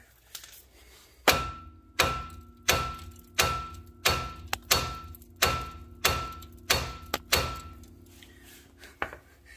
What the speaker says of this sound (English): Whacking the camera with my hammer.